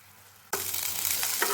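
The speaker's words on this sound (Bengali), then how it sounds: "এখন আমি আঁচটাকে বাড়িয়ে দেব আর জলটাকে শুকিয়ে চিকেনটাকে ভেজে নেব।" Chicken pieces start sizzling loudly in a pan over raised heat as the remaining water boils off, a sudden bright frying hiss that holds steady after a quiet start.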